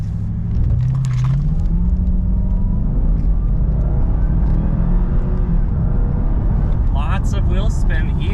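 A 2011 Cadillac CTS-V with the supercharged 6.2 LSA V8 launching from 0 to 60 with wheel spin: loud, close engine roar climbing steeply in pitch through the gear, with a constant heavy rumble.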